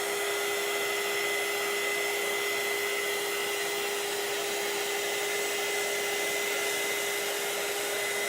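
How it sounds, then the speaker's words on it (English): A hair dryer runs continuously on a freshly heat-pressed t-shirt, a steady, loud blowing whir with a constant tonal hum throughout, no talking. "So while that's heating up, I'm gonna go ahead and keep drying."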